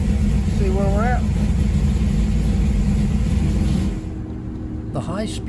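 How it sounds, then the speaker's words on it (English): A car is driven around the block during carburetor test and tune work, its engine a loud, steady rumble that drops to a lower, quieter idle near the end, while a voice speaks briefly over it. "Just run up and down the block a little bit."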